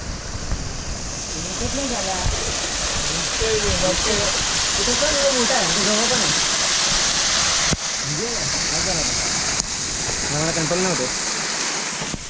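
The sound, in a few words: waterfall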